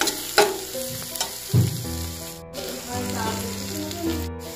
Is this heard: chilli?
yes